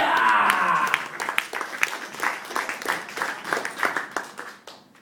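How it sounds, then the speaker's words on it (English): Applause for a comedian at an open mic night, a crowd clapping loudly at first, then thinning into scattered, uneven claps that fade out. "Give him a big round of applause, ladies and gentlemen"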